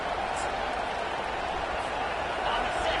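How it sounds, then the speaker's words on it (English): Stadium crowd noise in the College Football 25 video game, a dense, steady roar of cheering spectators filling the whole stretch, with faint commentary mixed in. "This crowd trying to make life miserable for this offense."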